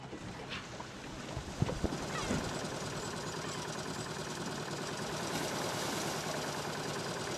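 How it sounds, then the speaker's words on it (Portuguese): Distant fishing boat engines at sea drone steadily, a continuous low hum with a few faint knocks early on. "Ouvem-se motores lá ao fundo,"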